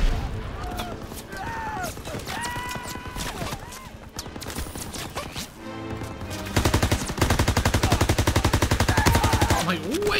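Machine gun fire in the World War II shooter Call of Duty, a rapid, loud, evenly paced burst of automatic shots dominating the second half after scattered gunfire, with shouting voices mixed in.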